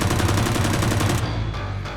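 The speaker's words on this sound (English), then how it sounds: "The first sound of gunfire, Jenny shooting up to the tires" Rapid automatic gunfire in a video game as shots are fired at the tires of a police car, loud sustained bursts through the first half before cutting to quieter rumbling game ambience.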